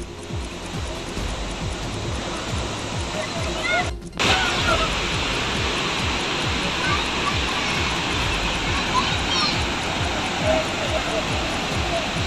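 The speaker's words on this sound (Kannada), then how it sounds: "ಹಾಲ್ನೋರಿಯಂತೆ ನೀರು ಸುರಿತಾ ಇದ್ದು ಅಕ್ಕ ತಂಗಿ ಕಿರು ಜಲಪಾತ ಕಂಗೊಳಿಸ್ತಾ ಇದೆ" Water pours down the Akka Thangi mini waterfall in the Badami hills as a loud, steady broadband rush that never lets up, with a voice speaking over it.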